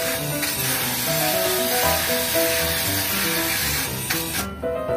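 A continuous hiss of an aerosol can spraying black spray paint onto boat outriggers, steady and close, with faint scraping and handling noises underneath.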